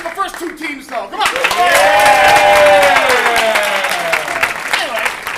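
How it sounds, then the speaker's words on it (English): Loud, close crowd applause with cheering and whoops for two comedy or performance teams, swelling quickly after a spoken intro and holding at a full roar before tapering slightly. "One more round of applause for the first two teams"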